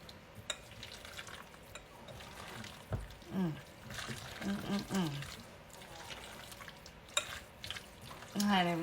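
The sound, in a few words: mixing BLT chicken salad in a bowl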